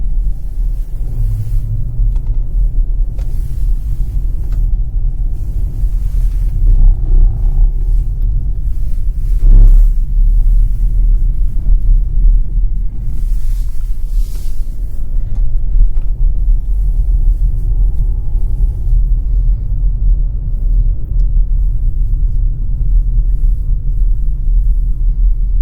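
A Magna all-wheel-drive car runs a slalom course in normal mode, giving a loud, continuous low engine and road rumble that swells and eases slightly through the turns. Faint bumps sound along the way, and no one speaks.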